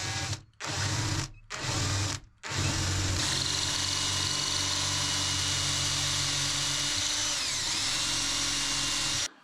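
Power drill widening an existing hole in a wooden cane or hiking stick to fit a dowel: three short whirring bursts, then one long steady drilling run, close and loud with no talk.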